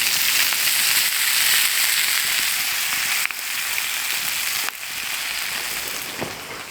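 Bacon and tomatoes frying over a campfire in a rainy cave, a continuous loud crackling sizzle with a couple of sharp pops, close and steady, no talk.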